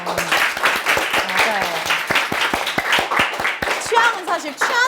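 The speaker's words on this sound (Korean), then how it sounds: "자, 박수 한번 쳐줄게요" Middle school students clap in a classroom, a brisk run of sharp, close handclaps with voices calling out over them.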